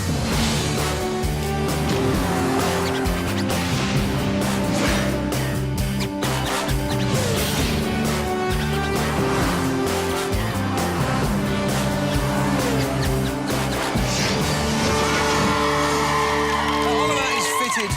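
A car drives into a television studio show, its engine rumble blending with loud crowd cheering, shouting and whooping that continue throughout.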